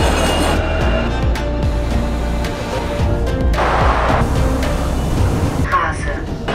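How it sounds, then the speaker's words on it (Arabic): The Wuppertal Schwebebahn, a suspended monorail train in Germany, rumbles past with rattling, clicking metal and occasional squeals, while a voice talks over the noise. "قطار شفيفا بان يعتبر اقدم قطار معلق بالعالم"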